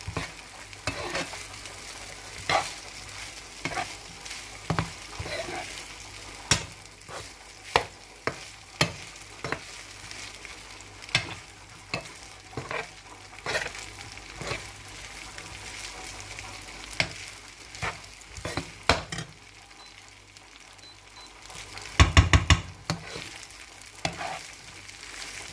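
Rice is stir-fried in a pan for a fried rice dish, with a constant low sizzle and repeated sharp scrapes and clanks of a utensil against the pan, louder bursts near the end, and no talking.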